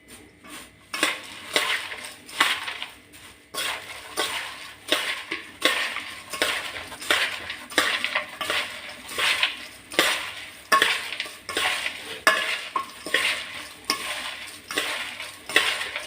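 Hot poha (flattened rice) is stirred with turmeric powder in a pan, making repeated rhythmic scraping and clinking of a utensil against metal, close and fairly loud, with a soft rustle of grains between strokes.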